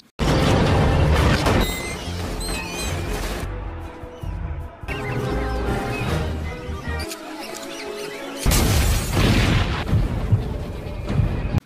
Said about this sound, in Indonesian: Ketika ledakan demi ledakan menghiasi tempat itu